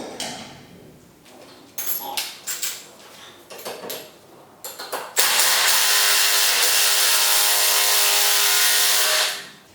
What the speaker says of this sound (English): we're just going to use the 19mm nut that KW supplies and just tighten this guy down